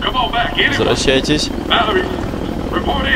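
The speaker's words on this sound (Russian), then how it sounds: "Ух ты, это вертолет, что ли, да?" Helicopter in the video game The Walking Dead: Survival Instinct, a steady loud rotor drone running throughout beneath a man's speech.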